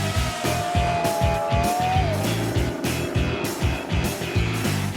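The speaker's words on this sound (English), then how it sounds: "The wedge-shaped Lotus 72 given a run out here, as is the Indy 500 winning car of" A classic wedge-shaped Lotus 72 racing car runs on a track, its loud engine revving continuously with pulsing gear changes, close and unbroken, with no talk.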